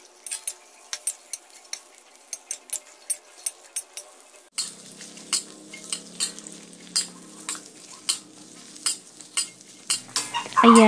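Onions for pork steak start sizzling in hot oil partway through, a steady close frying hiss broken by regular clinks and scrapes of a utensil stirring in the pan.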